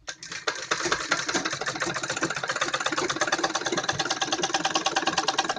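A sewing machine runs steadily while stitching the fitting seam of a kurti, a fast, even mechanical chatter of needle strokes that continues close and unbroken for several seconds with no talk.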